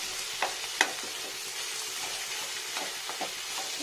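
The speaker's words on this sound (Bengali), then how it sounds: "সবগুলোকে ভাজা ভাজা করে" Egg curry ingredients, tomato among them, fry in a pan with a steady soft sizzle, a few sharper crackles and stirring scrapes near the start, fairly quiet and close, with no talking.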